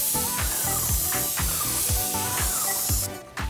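A paint sprayer gun hisses steadily and fairly loudly for several seconds, with faint regular clicks and knocks from the equipment underneath, then cuts off briefly near the end.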